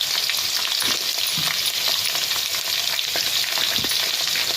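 Mustard seeds, fenugreek, garlic, green chillies and onion fry in oil for a fish curry, giving a loud, steady, close crackling sizzle with faint stirring and no talk.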